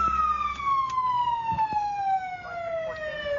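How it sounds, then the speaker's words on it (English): A police car siren wails in a steady, slowly falling tone that runs through the whole stretch, loud and close over low road rumble, with no talk. "It's got a siren on."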